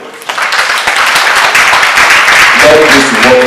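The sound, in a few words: audience clapping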